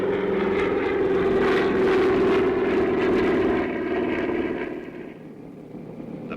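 Fixed-wing plane near a runway where a rescue helicopter has just taken off, a loud droning engine hum holding steady for several seconds before easing and fading somewhat toward the end, with no voices.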